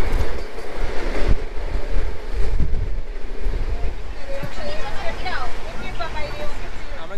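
A train pulls into Gaya station in Bihar, its carriages rumbling loudly and steadily nearby with wind buffeting, and a busy crowd's noise and higher squeals rising toward the end.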